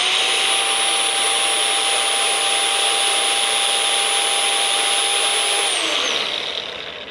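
Snap-on belt grinder deburring metal on a 1963-1965 C10 hood hinge, a loud constant whine with a steady high tone that holds and then drops as the motor spins down at the end; no talking.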